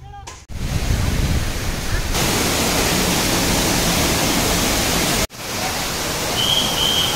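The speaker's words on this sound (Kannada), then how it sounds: "ಕಡಮಗುಂಡಿ ಜಲಪಾತ" Kadamagundi waterfall roars as a loud, broad, continuous rush of falling water, heard close with two brief cuts in the sound.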